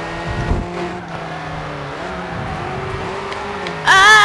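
A car drifts in the racing video game Grid 2: a sustained engine whine shifts in pitch with light tyre scrubbing, then ends in a sudden loud surge.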